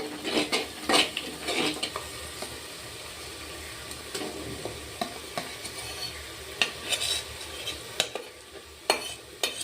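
Ground chili paste is stirred into onions browning in hot oil, with a steady sizzle under repeated scraping and clinking of a utensil against the pan, close and fairly loud, no talking.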